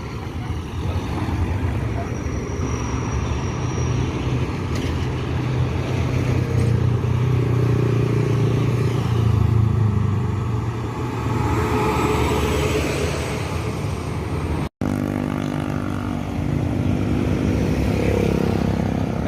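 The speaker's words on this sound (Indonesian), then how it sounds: "Dan ini bus Al Hijrah yang ketiga." Al Hijrah coach bus passing on a road near a bus terminal in West Sumatra, a steady loud engine rumble that swells and fades across the passage, with traffic noise around it.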